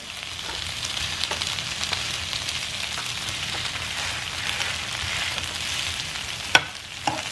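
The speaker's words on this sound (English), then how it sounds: "make sure you're getting a good sear all around the pan" Potatoes pressed into an even layer searing in a frying pan for an eggs Benedict breakfast, a continuous close sizzle and crackle with scattered pops and a sharp clink near the end, no talking.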